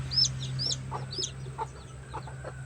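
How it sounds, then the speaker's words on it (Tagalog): Chickens in a farmyard, soft clucks and a few high chirps from chicks over a low steady hum, close and fairly quiet. "Ngayon na naman po ako nakapasisiw ng manok."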